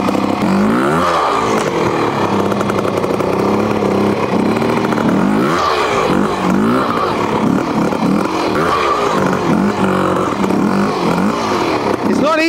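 A twin shock trials motorcycle, Bultaco or Fantic, rides a section with a continuous close engine note that rises and falls as the throttle blips. A voice talks over it.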